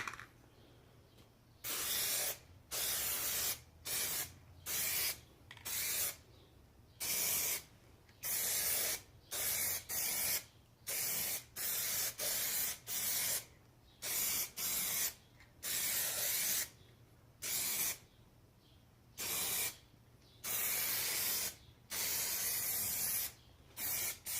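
An aerosol can of Plasti Dip sprays a coat onto car rims in about seventeen short, loud hissing bursts, each separated by a brief pause, with no voices.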